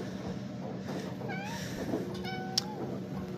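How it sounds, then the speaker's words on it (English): A vocal house cat meows several times indoors, short rising and falling calls spread over a few seconds, fairly faint against a steady low hum from HVAC equipment nearby. "This cat is very vocal this morning."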